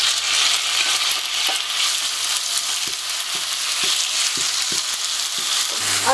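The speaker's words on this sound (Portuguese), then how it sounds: "Em uma panela colocamos o azeite ou óleo, deixamos esquentar. Fritamos o frango." Chicken fries in heated olive oil or cooking oil in a pan, a steady loud sizzle with crackling throughout and a few soft knocks from stirring.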